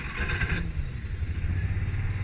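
A Kawasaki Mule 610 4x4 utility vehicle engine cranks with a little gas and catches, settling into a low, uneven chugging idle up close.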